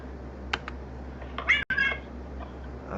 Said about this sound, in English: Did you hear my cat?